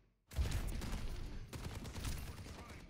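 Soldier 76's rapid gunfire mixed with a Helix rocket burst in the game Overwatch, a dense continuous volley after a short quiet start, briefly dipping near the midpoint before resuming loud and sustained.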